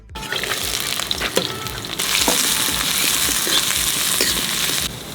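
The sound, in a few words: mustard oil heating in a kadai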